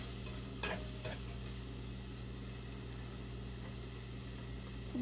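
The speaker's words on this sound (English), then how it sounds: "And I'll just put a little bit of tomato. And just let it brown up." Tomato browns in a pan with a steady, fairly faint sizzle and a couple of small utensil clinks near the start, no one talking.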